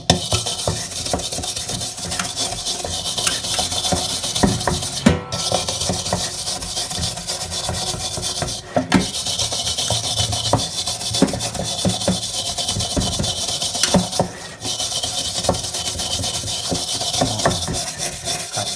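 Steady gritty scrubbing and rasping of a scouring pad against a metal pork grill pan, continuous and close, with a few brief pauses and occasional knocks.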